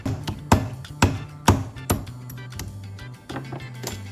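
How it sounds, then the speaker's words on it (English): Light hammer taps on a spark plug resting on a solid surface, cracking its ceramic insulator: a handful of sharp, close knocks in an uneven rhythm, with softer clinks between them and no talk. "I place the spark plug on a solid surface and gently tap it with a hammer"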